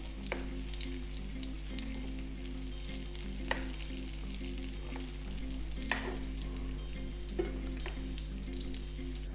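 Homemade fish fingers frying on medium heat in a pan, a steady close crackling sizzle with scattered pops, under a constant low hum.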